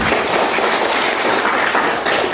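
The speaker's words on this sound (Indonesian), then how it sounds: "kita berikan tepuk tangan untuk Ibu Diana" Loud, dense applause from a room of students in a teaching session, a continuous wash of many hands clapping together without pause.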